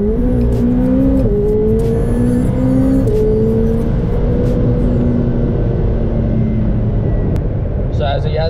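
A 2018 McLaren 720S accelerates hard on a freeway in Mexico, heard from inside the cabin as a loud, steady engine drone that climbs in pitch and drops at quick gear shifts.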